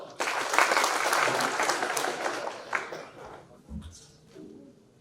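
Audience applause at a valedictory ceremony for an innovation showcase event, a dense burst of clapping for about three seconds that fades, followed by a few low coos and scattered sounds.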